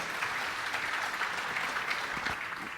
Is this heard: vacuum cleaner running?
no